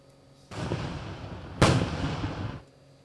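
Fireworks going off at a community picnic in Purdy, Missouri: a loud burst of crackling explosions begins sharply, then a second, louder blast hits and the rumbling crackle carries on for about two seconds before stopping abruptly.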